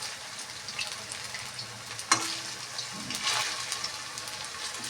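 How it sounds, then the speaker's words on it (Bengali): Sago and potato fritters (bora) frying in a pan of oil, a soft continuous sizzle and crackle with a brief utensil clatter partway through, fairly quiet and without talk. "এবার ভাজা হোক ভালো করে"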